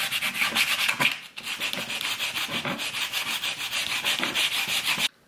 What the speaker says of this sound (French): je vais essayer de poncer avec ça, c'est du grain P180